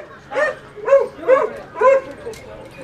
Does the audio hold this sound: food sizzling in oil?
no